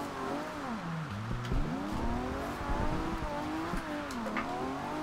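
A Nissan Skyline 2000 GT-R drifting in Forza Horizon 2, engine droning and wavering in pitch as the revs rise and fall through a slide, with a steady wash of tire and road noise, continuous and loud with no talk.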